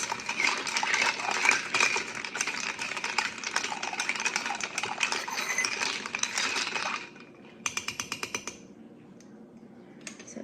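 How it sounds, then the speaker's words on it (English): A bar spoon clinks rapidly and steadily against ice in a cocktail glass for about seven seconds, close and bright, followed by a few separate clinks and taps. "grab our stir and stir it maybe 15 to 20 times"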